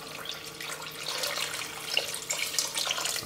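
Water pours into a pot over beef for a mafé, about 1.5 litres to cover the meat, a close steady splashing stream with small bubbly gurgles.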